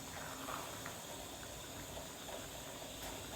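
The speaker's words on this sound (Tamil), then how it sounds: "ப்ரான்ஸ் மசாலாவோடு சேர்ந்து கொதிக்க ஆரம்பித்ததும் இந்த மாதிரி கொஞ்சம் தண்ணி விடும்" Prawns masala simmering in a pan and letting out a little water, a soft steady bubbling hiss that stays low and even throughout with faint sputters.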